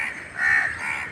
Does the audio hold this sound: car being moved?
no